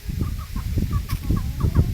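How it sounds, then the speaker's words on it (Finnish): A rooster clucks close by in a rapid, uneven series of short calls over a steady low background rumble. "Kukko söisi leipää, mutta kun Ella syö kaikki kukon leivät"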